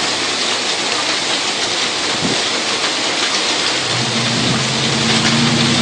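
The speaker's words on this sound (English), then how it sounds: "We're getting some small hail and some heavy rains." Heavy rain and small hail pouring down in a severe thunderstorm with gusty winds, a loud unbroken hiss throughout with a low rumble building near the end.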